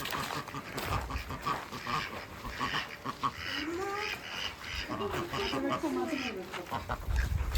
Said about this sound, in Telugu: కోసం వస్తున్నాయి బాతులు.